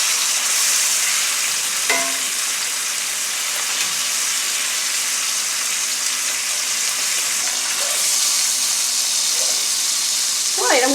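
A ribeye steak sizzles in a hot frying pan after sous vide cooking, a steady hiss of frying with a few clinks and scrapes as the meat is flipped.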